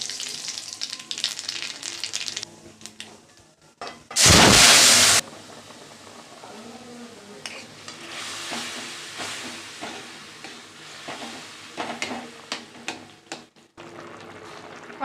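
Hot oil in a wok spits and crackles as nigella seeds hit it, with a loud, dense burst of sizzling about a second long, then a softer steady fry with scattered pops and stirring scrapes.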